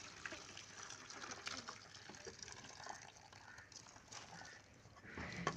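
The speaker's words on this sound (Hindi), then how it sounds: "ये काढ़ा वगैरह हमारा तैयार हो गया। इसे हम अब किसी बाल्टी वगैरह में डाल लेंगे" Herbal decoction of water and leaves poured into a bucket, a faint, continuous splashing and gushing of liquid that runs steadily throughout, with no talk.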